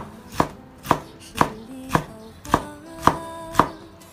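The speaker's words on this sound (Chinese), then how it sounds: "温度降下来之后，我们把豆角给它改刀切碎。" A knife chops blanched green beans in seven crisp, evenly spaced strikes about half a second apart, each a close, sharp thud with no speech.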